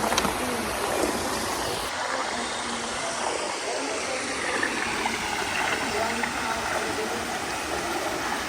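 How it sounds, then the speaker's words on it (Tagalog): A small, low-flow waterfall pours into a clear stream outdoors, giving a dense, steady wash of rushing water that holds evenly throughout, close and loud, with no voices. "Nandun na yung falls."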